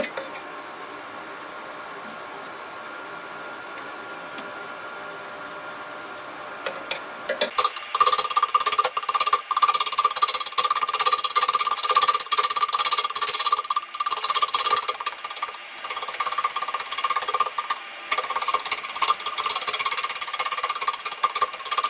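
A wood lathe spins an out-of-balance bottle opener blank, a steady loud whirring drone with rapid rhythmic knocking that starts abruptly after a quieter hum and carries on continuously.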